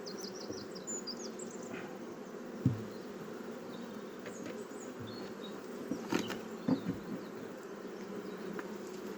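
Honeybees hum steadily around an open hive during a brood inspection, a dense, continuous buzz close by with a few louder bumps and clicks from handling the frames, and no talking.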